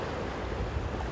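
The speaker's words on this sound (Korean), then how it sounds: "이 파도에 실어갈 뻔해" Ocean waves roll at sea off Jeju where elderly haenyeo women divers work, a dense, steady wash of surf with wind rumble filling the whole moment, no voices.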